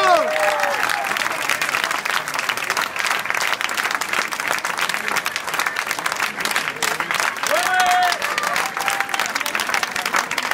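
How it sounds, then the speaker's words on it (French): A crowd applauds continuously after the 2018 Millau 100 km race, dense clapping filling the whole stretch, with a voice speaking over it now and then. "Applaudissements"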